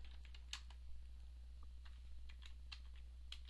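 A note is typed on a computer keyboard into Trimbal trim-balancing software: a short, irregular burst of light key taps over a constant low machine hum.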